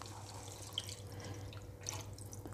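Beef yakhni (meat stock) poured into a pot of browned beef for Bannu pulao, a faint, steady, splashing pour that runs throughout with no voices.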